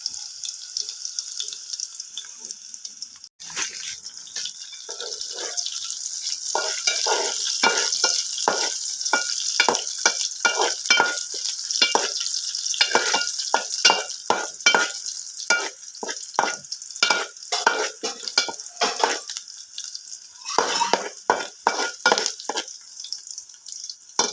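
Onion frying and sizzling in a tempering of hot oil on a wood-fired stove, stirred with quick repeated scraping strokes throughout, steady close sizzle with dense rhythmic stirring clatter and no talk.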